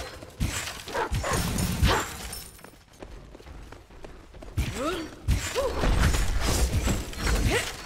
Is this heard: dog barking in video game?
yes